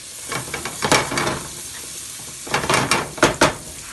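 Carbonara ingredients sizzle in a hot frying pan, a steady crackling hiss that swells in two louder bursts as the food is stirred, with light scraping and no voices.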